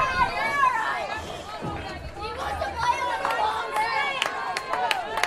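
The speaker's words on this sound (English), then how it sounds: "People are standing and clapping." Baseball crowd at a tense late-inning moment, spectators standing and clapping with steady chatter and scattered cheers; a busy, continuous din with sharp claps cutting through near the end.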